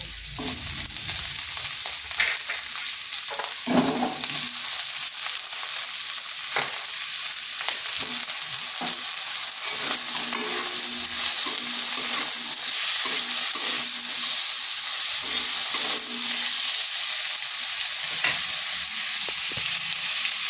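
Potatoes added to onions and green chilies fry in a pan with a continuous loud sizzle, while a spatula scrapes and taps against the metal at irregular intervals, close up with no one speaking.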